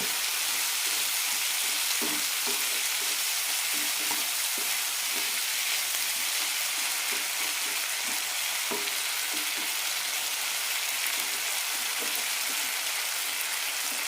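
Brinjal masala sautéing in a pan, a constant loud hiss of frying oil with small scrapes and taps from stirring scattered throughout, no voices.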